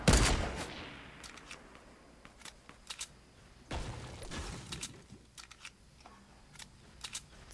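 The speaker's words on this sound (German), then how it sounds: "Das hört sich nach Granaten an." Grenades go off in Fortnite as a sharp blast at the start and another heavy burst midway, spread among distant gunshots and clicks, all fairly faint with no voices.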